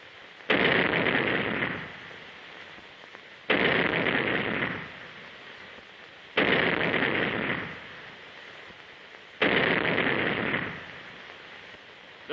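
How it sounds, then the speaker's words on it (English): A naval 3-inch gun aboard a 1935 US Coast Guard vessel fires four heavy, booming shots at regular intervals of about three seconds, each blast loud and followed by a fading rumble. "The cadets demonstrate their proficiency by firing the 3-inch gun in record time."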